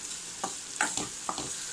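Spinach dal in a pan being stirred after turmeric and salt are added, with a handful of soft scraping strokes over a faint steady hiss, close and quiet.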